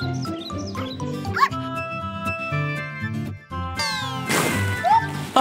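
Several high, rising meows from cartoon kittens chirp over cheerful children's music with bells and a sliding whistle, fairly close and lively.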